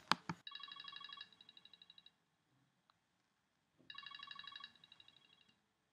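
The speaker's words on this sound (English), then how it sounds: "Now the agent can input the client's number and make the phone call." A telephone keypad dials a number in two quick bursts of rapid touch-tone beeps with a short pause between them, faint and clean with no voices.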